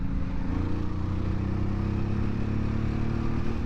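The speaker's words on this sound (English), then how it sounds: "I'm using the horsepower to pass, not the torque." A 2001 Honda Shadow Sabre motorcycle holds a loud, steady engine drone as it accelerates to pass other riders on the road. The sound is continuous and close, with a dense low rumble and wind noise.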